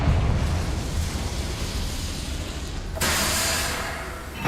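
Confringo fire spell in Hogwarts Legacy erupts in a rumbling blast followed by a sustained roaring, crackling burst that cuts in sharply and fades, with no voices.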